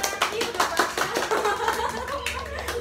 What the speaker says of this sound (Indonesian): Boleh tepuk tangan untuk Hana